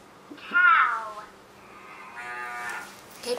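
A toy cow lets out a loud electronic moo, first a strong low call and then a longer second moo, close and clear with only faint room noise behind it.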